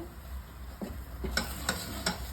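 Ashoka halwa being stirred in ghee in a pan, with a steady low sizzle and a few soft, regular scraping strokes of the spoon about every third of a second toward the end, alone without talk.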